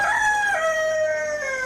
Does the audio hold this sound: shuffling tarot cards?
no